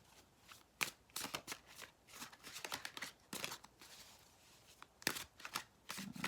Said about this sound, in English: And I'm going to pull 4 cards.